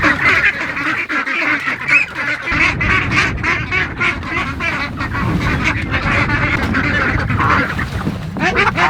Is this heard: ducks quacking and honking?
yes